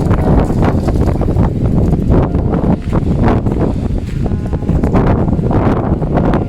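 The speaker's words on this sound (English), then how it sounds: "Wind is picking up a lot" Gusty wind blows across an open cemetery full of stone vaults, roaring constantly against the microphone in loud buffeting rushes with no pauses.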